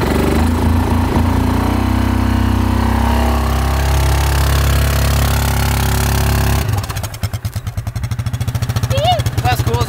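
A new four-wheeler ATV engine drones loudly and revs, then drops to a choppy, pulsing idle near the end, with voices talking over it.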